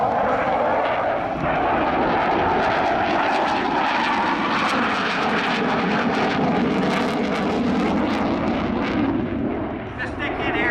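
An F-18 fighter jet in a navy tactical demonstration, descending on a 45-degree approach with the power pulled back, gives a loud, continuous, broad engine roar that stays steady and eases slightly near the end.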